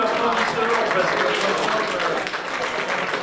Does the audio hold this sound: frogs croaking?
no